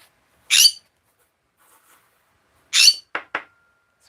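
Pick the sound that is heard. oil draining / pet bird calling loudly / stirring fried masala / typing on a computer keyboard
pet bird calling loudly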